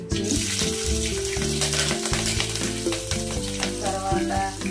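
Mustard seeds, cumin and green chillies sizzling in hot oil for egg curry, a steady loud crackling fry that fills the whole stretch, with a low rumbling hum underneath.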